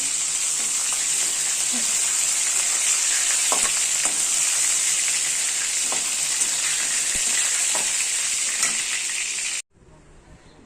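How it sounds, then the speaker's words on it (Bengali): Fish heads fry in a pan of hot oil, producing a loud, continuous close sizzle sprinkled with crackles and spits before it cuts off abruptly near the end. "মাথাগুলো সব ভাজা হয়ে গেছে এবার তুলে নেব"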